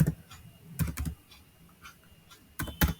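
Computer keyboard typing in a quiet room during a software lecture, with two short bursts of clustered keystrokes, one near the start and one near the end, and sparse light taps in between.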